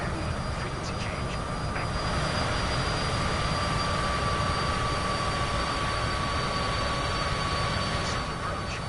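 Steady, loud broadband jet engine roar of a Cessna C25C business jet in Microsoft Flight Simulator 2024, continuous and unbroken, with a faint high whine running through it.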